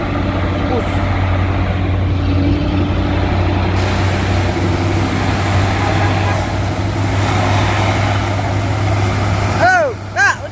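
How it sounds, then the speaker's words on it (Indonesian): A dump truck rumbles past with a low, steady engine drone that holds for several seconds, then fades. A brief burst of other noise comes near the end. "Asap truk yang mana nih bosku? Wih, dam truk rupanya."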